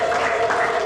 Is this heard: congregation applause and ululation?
yes